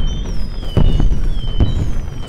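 Fire spreads in the sandbox video game Worldbox and sets off explosions, two dull booming blasts about a second apart over a loud continuous game soundscape with high tonal tones, with no talking.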